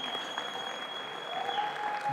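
Scattered applause from an audience at a blockchain technology presentation, fairly faint and distant in a large room, continuing steadily with a thin electronic tone above it.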